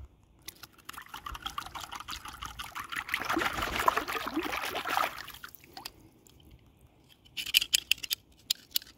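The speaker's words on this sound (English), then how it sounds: "Now let's give it a wash off." Water runs over a pair of Knipex Cobra pliers as they are washed off, giving a steady, soft trickling pour that swells mid-clip and then tapers into light drips and metal clicks.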